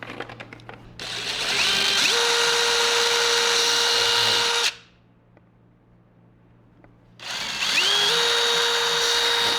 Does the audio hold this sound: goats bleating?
no